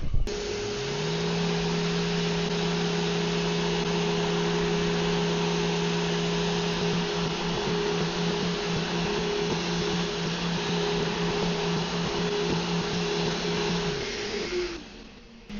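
A Mirka random orbital sander running with 80 grit paper on white oak, a steady loud whir with a constant hum that holds for about fourteen seconds before spinning down, with no voices.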